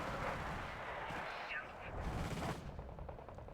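Missile launches and gunfire in the real-time war game Wargame Red Dragon, a dense continuous roar of launches and firing with rumbling low blasts throughout, under faint talk.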